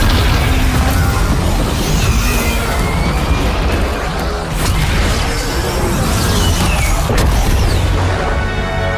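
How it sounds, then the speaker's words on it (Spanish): A massive explosion in the Gears of War video game tears through underground Locust tunnels. Dense, loud rumbling booms and crashing debris keep going without pause for several seconds. "provocando una explosión masiva que destruye gran parte de la red subterránea"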